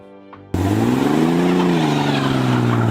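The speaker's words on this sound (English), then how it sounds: "a car that made sure nobody forgot the buzz of its engine" A 1951 Hudson Hornet engine bursts to life after a short quiet moment, then revs with a loud, buzzing, throaty tone that rises and settles.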